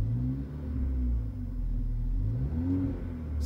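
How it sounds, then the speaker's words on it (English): A 2016 Mercedes-AMG GLA 45 with its performance exhaust valve held open revs in neutral, giving a steady, loud low rumble with rising and falling engine pitch swells, close by and without talk. "Give it some gas."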